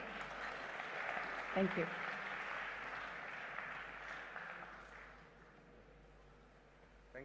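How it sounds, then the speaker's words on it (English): An audience at a conference inauguration applauds to welcome a speaker, a moderate, fairly distant wash of clapping that fades toward the end, with a brief spoken thanks near the close. "let us welcome him with a huge round of applause"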